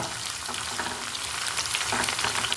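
Close, continuous sizzling of shallots frying in hot oil in a pan, crackling and spitting steadily without letup.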